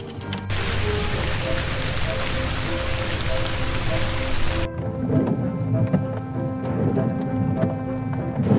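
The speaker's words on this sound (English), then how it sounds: "A massive hailstorm suddenly descended" Dense, loud pelting of hail from a massive hailstorm in Poland against a surface, a constant hiss of impacts that later thins into heavier scattered knocks and taps.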